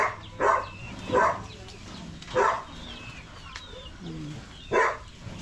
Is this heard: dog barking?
yes